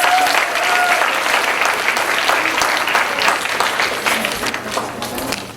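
Sustained audience clapping for 7th grade winners at a middle school literacy recitation and drama competition, dense and steady throughout, easing slightly toward the end.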